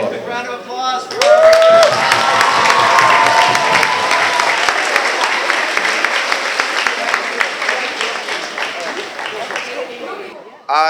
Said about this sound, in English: All right, a quick round of applause for